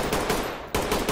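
Gunfire in the tactical shooter game Ready Or Not: a loud, close burst of rapid shots that breaks off briefly and then resumes, with no voices.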